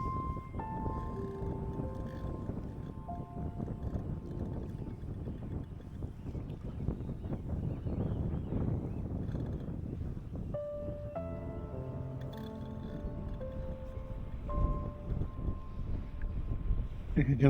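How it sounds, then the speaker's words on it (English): Strong gusting wind buffets the microphone during fly fishing for rainbow trout, a continuous low rumble with tonal whistling and hum layered over it. "The wind has powered up again, making casting very hard."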